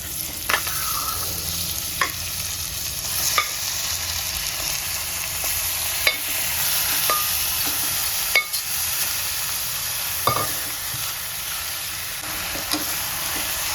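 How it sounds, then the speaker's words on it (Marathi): Mutton pieces frying in a spiced tempering with finely chopped coriander, giving a steady close sizzle broken by periodic scraping stir strokes throughout, with no talking. "आता मटण टाकून घ्यायचं"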